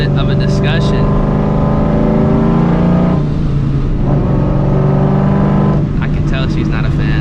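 Supercharged New Edge Mustang GT running close by, a loud, steady engine drone with a rising rev and a couple of throttle swells, under occasional talk.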